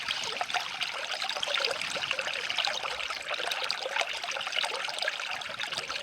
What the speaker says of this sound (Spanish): invitarlos a oír el pasar del agua a través de este video